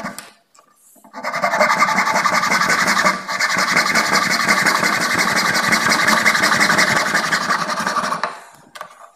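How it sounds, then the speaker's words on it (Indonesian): A hand saw cuts through a piece of wood in quick, regular rasping back-and-forth strokes, close and loud for several seconds before stopping, with no talking. "kita potong menggunakan gergaji."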